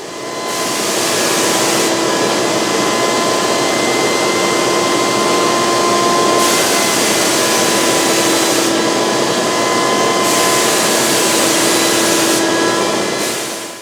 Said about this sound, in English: most HVLP units rely on a multi-stage turbine to generate the big volume of air required, and, like any blower motor, these can be quite noisy